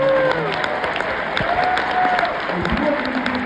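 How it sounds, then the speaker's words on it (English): Audience applause at a ceramics conference, a steady, dense wash of clapping from a crowd that fills the whole stretch at even loudness, with faint voices mixed underneath. "Can we give a round of applause for that?"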